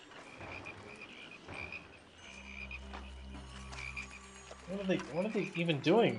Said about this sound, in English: Multitudes of frogs pollute our streets and dwellings, forcing residents from their homes.